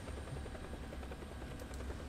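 A helicopter in the video game War Thunder drones steadily with a low rotor thrum at moderate distance, no talk over it.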